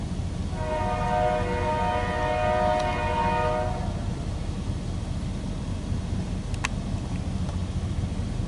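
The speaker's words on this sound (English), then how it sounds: "This is an eastbound Union Pacific coal drag on the Transcon line" An eastbound Union Pacific coal drag on the Transcon line at Fremont rolls past with a steady rumble of wagons, and a loud multi-tone horn blasts for a few seconds early on. Brief metallic squeals follow over the continuing roll.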